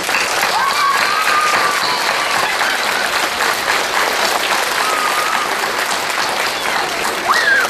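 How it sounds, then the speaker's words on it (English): Sustained audience applause for the Boy Scout Troop 343 Honor Guard at a 2011 graduation ceremony, with members rising. Broad, even clapping stays loud from start to finish, with a few faint whistles or voices rising above it. "Would members please rise and please join me with a round of applause."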